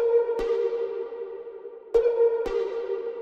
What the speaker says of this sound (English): Another sound we've used as well is this dark pluck,